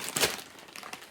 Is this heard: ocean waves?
no